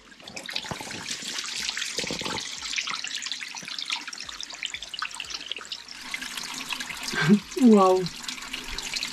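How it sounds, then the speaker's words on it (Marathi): A natural spring flows into a small pool in a valley in Maharashtra during hot summer weather, trickling and gurgling close by. A person speaks over it, and a brief exclamation is heard near the end. "नॅचरल पाण्याचा झरा।"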